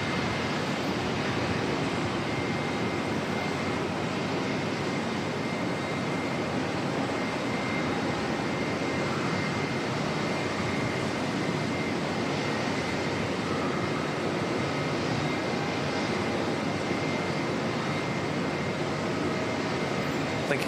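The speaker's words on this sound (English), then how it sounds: "Delta's pushing back right now." A Delta airliner pushing back at Auckland Airport gives a steady, distant jet engine whine and broad rumble, constant over the whole stretch with a faint voice now and then beneath it.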